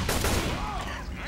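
A gunshot from the zombie shooter Left 4 Dead 2, a short dense burst of gunfire that fills the short moment loudly, with a voice faintly under it.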